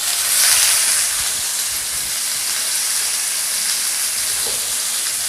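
Onions frying in a pan for a prawn curry give a steady, close sizzle and hiss with no talk over it.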